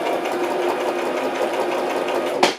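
Sewing machine stitching in a continuous close, steady run that ends with a brief clunk.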